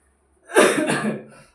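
A single harsh cough bursts out close to the microphone and trails off with a breathy rasp.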